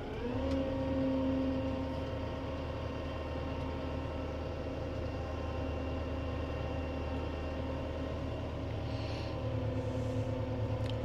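A Kubota MGX105 tractor's engine drones steadily and low as the machine creeps slowly forward, a constant close rumble with no changes in pace.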